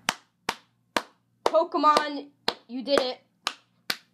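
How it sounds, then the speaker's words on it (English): One person clapping for a Pokémon trailer, slow, evenly spaced sharp claps close to the microphone, about eight in all, with excited speech breaking in between them. "let me just put this down to give an applause to"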